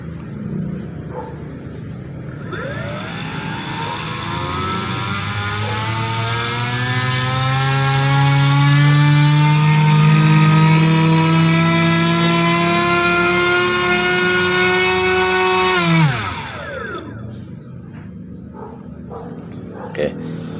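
Brushless motor on a tester running in auto mode, whining as it ramps up in pitch, holds at a loud steady tone, then spins down and stops near the end, with low background noise and a voice nearby.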